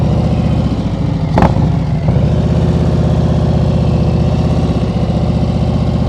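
A motorcycle engine runs steadily at low revs during slow-speed riding practice, a loud, even near drone with one brief sharp knock partway through.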